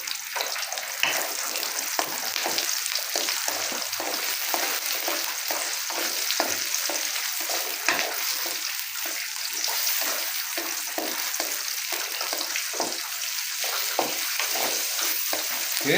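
Spice paste with candlenut frying in a pan and being stirred, a steady close sizzle broken by frequent scraping stir strokes, with no talking.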